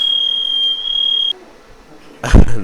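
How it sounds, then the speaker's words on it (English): A loud, steady high-pitched smoke alarm tone holds for over a second, then cuts off, leaving near-quiet before a brief loud thump. "There was the fire alarm."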